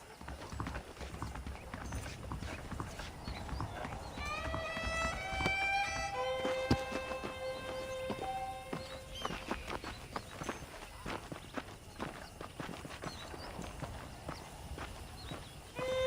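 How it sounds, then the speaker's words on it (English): Horse hooves clip-clop at a walking pace in Red Dead Redemption, with a whinny and soft rural ambience in the background, moderately close. "The horses are saddled up over here."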